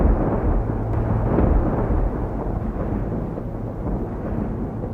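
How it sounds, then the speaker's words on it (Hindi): Deep, rolling thunder rumbles on without a break, low and heavy, loudest near the start before settling into a sustained growl. "बादल गरज रहा है और बरसात होने की संभावना बन रही है"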